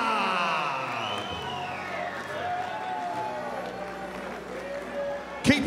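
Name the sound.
crowd applause and cheering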